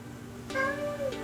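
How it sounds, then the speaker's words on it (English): A house cat meows close by in a quiet room, one drawn-out rising-and-falling call followed by a short second mew, with no talking. "Of course, I start filming and guess who shows up? The cat."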